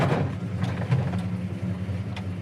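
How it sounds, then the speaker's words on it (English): A 1970 Chevelle's engine idles at about 700 RPM, a steady low rumble with a slight uneven lope, close and fairly loud with no talking over it. "It's idling about 700 RPM right now."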